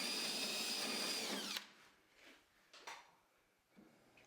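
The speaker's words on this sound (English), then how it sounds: "I'm just drilling out the Orlock holes" A power drill drilling through wood whines at high speed for over a second and a half, then cuts out, followed by faint clattering and handling noises.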